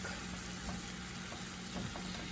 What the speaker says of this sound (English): Just gonna break this down so that it can all cook